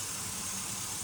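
A truck engine idles steadily to warm up after winterizing work, a low, even hum running unbroken and fairly quiet throughout with no voices.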